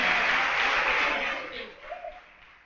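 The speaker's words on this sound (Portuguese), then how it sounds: "Dá um aplauso bem forte a Ele" A church congregation bursts into applause, a dense loud wash of clapping that fades over a couple of seconds, with a brief voice near the end.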